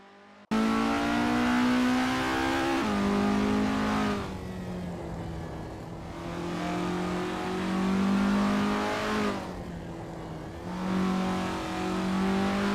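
Isuzu Bellett GTR race cars warm up at Sportsland SUGO in Assetto Corsa, engines droning and revving loudly with rising and falling pitch, sustained throughout with brief lulls between surges.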